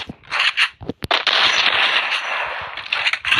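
Shotgun fire in the mobile shooter game Free Fire: several loud, close, sharp blasts in quick succession, with crackling bursts and gaps between shots.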